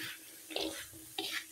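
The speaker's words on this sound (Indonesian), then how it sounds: "Kita aduk-aduk." Fried tempeh and anchovies being stirred in a pan for sambal, giving a few soft scraping, shuffling strokes over a faint sizzle, close and quiet with no speech.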